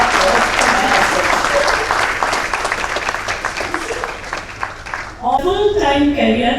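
Loud, sustained applause fills the room at a book launch, a dense wash of clapping that fades after about five seconds as a voice begins talking.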